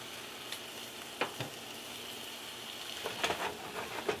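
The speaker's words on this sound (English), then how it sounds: "I'm going to let this side fry up for about 4 to 5 minutes as well." A southwest chicken patty frying in a pan gives off a soft, continuous sizzle, broken by a few faint spatters and pops scattered through.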